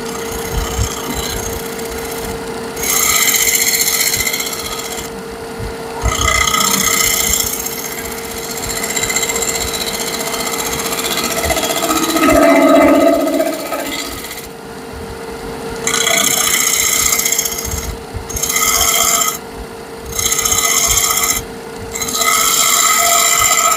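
Repeated scraping strokes of a shear scrape cut on wood, each pass a rasping, filing-like rub lasting a second or two, with short pauses between, close and fairly loud with a steady low hum beneath.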